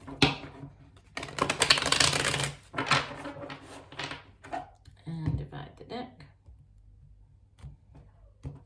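Tarot cards shuffled up close: a dense, crackling flurry of card flicks, then a few shorter bursts and scattered light taps that thin out toward quiet.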